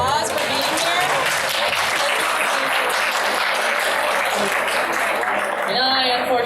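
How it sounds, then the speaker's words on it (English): Audience at a Florida SuperCon cosplay panel on fitness and body positivity gives sustained, loud clapping mixed with some cheering, with a voice briefly heard over it near the end. "Give yourselves a round of applause for being here"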